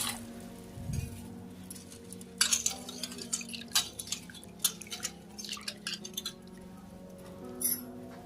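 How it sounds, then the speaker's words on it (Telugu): Soaked chana dal being rinsed by hand in a bowl of water, giving scattered clinks, drips and splashy swishes at close range, with a few sharper bursts between quieter pauses. "మంచిగా శుభ్రంగా 2 సార్లు కడిగి పెట్టుకోవాలి."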